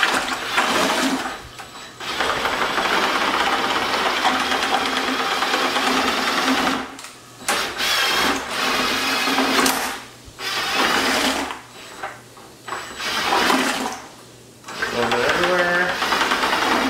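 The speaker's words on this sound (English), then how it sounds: "it's really an degassing wand, but I'm using it for this case for mixing because I can." A degassing wand driven by a drill stirs the honey must for an 8-gallon bochet mead. It makes a loud, steady motorized whirring with sloshing, running in long bursts separated by short pauses.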